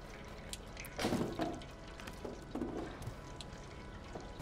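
Water drips in the video game Stray, soft liquid drips and splashes scattered over a quiet, low background, with a couple of slightly louder watery bursts.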